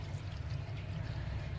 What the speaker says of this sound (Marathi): एक पाण्याने धुणार आहे मी ह्याला.